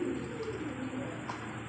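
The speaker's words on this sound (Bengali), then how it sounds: "লাইট কালারের মধ্যে বোম্বাই কবুতর, দেশি বোম্বাই" Light-coloured deshi Bombay pigeons coo softly and continuously nearby in a short, low, steady burst that ends abruptly.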